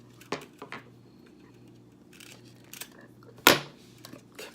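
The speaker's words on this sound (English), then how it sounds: "we're gonna take the cutters, the wire cutters, and cut off our piece here." Wire cutters snip through copper wire in a quiet indoor space, a few short, sharp clicks with one louder snap near the end, separated by near silence.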